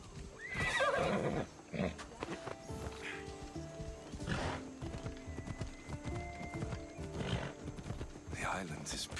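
Hooves clip-clop at a steady trot during a horseback ride in Assassin's Creed Odyssey, with a horse whinnying near the start and voices talking over the hoofbeats throughout.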